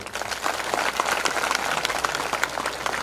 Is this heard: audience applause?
yes